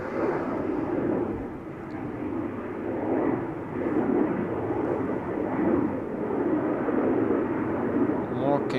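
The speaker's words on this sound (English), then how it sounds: "More KLM Embraers taking to the sky" KLM Embraer jets take off at Amsterdam Schiphol, a broad rumbling engine roar that swells and ebbs steadily at a moderate distance, with no talk over it.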